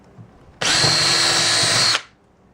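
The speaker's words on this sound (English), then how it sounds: "just quickly drill in a couple of holes" A power drill bores into a model railway baseboard while Peco points and flex track are fitted, a single loud, steady whine lasting just over a second, starting and stopping abruptly against a quiet room.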